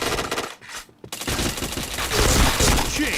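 Rapid automatic gunfire from a shooter video game fills the clip in dense, loud bursts, broken by a brief pause before the shooting resumes.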